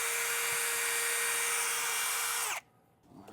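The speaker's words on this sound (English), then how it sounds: "We're going to be drilling in first." A power drill whines at a steady high pitch as it bores into the body of a 2017 Jayco Eagle RV trailer to mount a MORryde telescoping hand rail. The whine holds for about two and a half seconds and then cuts off abruptly.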